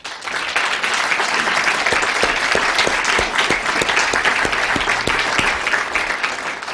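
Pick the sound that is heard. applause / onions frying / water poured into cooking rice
applause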